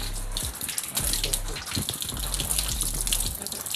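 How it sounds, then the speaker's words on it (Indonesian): Water poured over a helmet with a water-repellent coating, sheeting straight off the surface in a loud, continuous gushing splash with uneven surges and no clear talking. "Nah, ini airnya langsung jatuh guys."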